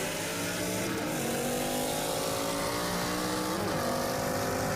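A 1,000 horsepower twin turbo Mustang racing a 1,000 horsepower C7 Corvette Z06, engines roaring loudly and steadily as they pull through the gears, with no talking.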